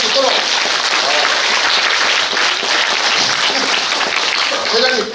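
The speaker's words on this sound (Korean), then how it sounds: "회장님 박수 치는 게 건강에 좋다니까 계속 박수 많이 치고 계세요." Party members at a local chapter education meeting applaud steadily, a dense, even wash of many hands clapping that fills the room without pause.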